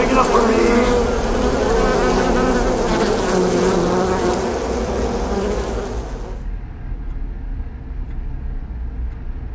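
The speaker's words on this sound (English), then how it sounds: "Why are there so many bees?" A dense swarm of bees buzzes loudly in the video game I Expect You To Die, a thick droning hum that fills the first six seconds before abruptly cutting off, leaving only a quieter low rumble.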